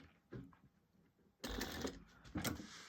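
Sewing machine stitching a narrow 1/8 inch seam on a bag, a brief quiet burst followed by a louder continuous mechanical whir lasting about a second and a half.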